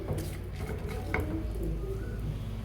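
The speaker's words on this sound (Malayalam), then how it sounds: "ബട്ടർ ചൂടായി വരുമ്പോൾ നമുക്ക് ഒരു 2-3 ഏലക്കായ, പട്ട, മസാല എല്ലാം കൂടെയും കൂടിയിട്ട് നമുക്ക് ഒന്ന് വഴറ്റിയെടുക്കാം." Cardamom, cinnamon and other whole spices are sautéed in hot butter in a pan for paneer butter masala, with close, soft scraping and light clinks of stirring over a low, quiet sizzle.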